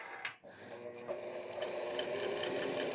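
A sewing machine quilts a waxed canvas backpack, its motor rising into a steady close whir after a short pause near the start.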